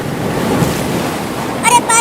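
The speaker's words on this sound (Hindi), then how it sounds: "अरे पानी तो अब घर में भी आने लगा" Flood water pours into a village house, a loud, steady rushing wash that fills the moment, with a brief higher tonal sound rising at the very end.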